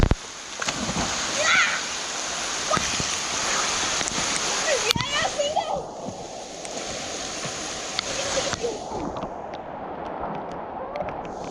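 Someone jumps into a village pond during monsoon rain, making a loud splash. Splashing and churning water continue afterwards, with voices calling out nearby.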